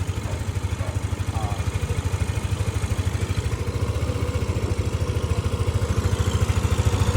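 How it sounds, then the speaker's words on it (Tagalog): A motorcycle engine idling steadily after a restart, with a fast, even low chug and faint mechanical clatter, close and continuous for several seconds. "restart na ang motor"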